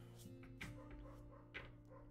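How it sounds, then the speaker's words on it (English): A dog barks outside, faint and distant, giving two or three soft barks over a steady low indoor hum. "There's a loud dog barking out there."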